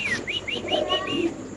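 Fantail pigeons at a pigeon farm give a close, clear run of quick chirping calls and soft coos, repeated in a steady rhythm with no talking.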